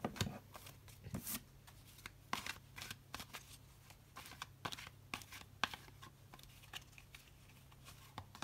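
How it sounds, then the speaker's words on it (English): A deck of tarot cards shuffled by hand, heard as quiet, repeated riffles and soft slaps in an irregular rhythm with brief pauses, close up and without talking. "I'll do a little bit more shuffling on camera just so you can see me do that"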